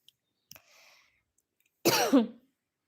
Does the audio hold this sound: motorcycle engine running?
no